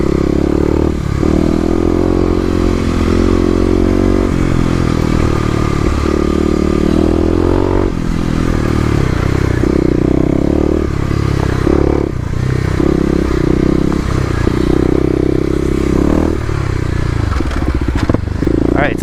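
Kawasaki KLX250 dirt bike with stage 1 mods ridden hard on off-road OHV trails, loud engine droning and revving throughout with rattling, scraping and crunching over rocks and rough ground.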